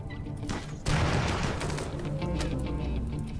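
Inferno cannons firing in a RimWorld battle during rain: a sudden heavy booming volley followed by a continuous rumbling barrage of overlapping shots and crackles, loud and dense throughout.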